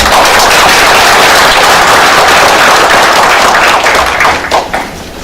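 Dense, loud clapping from a seated audience at a Sejong University real estate management forum launch lecture, sustained for several seconds before tapering off near the end.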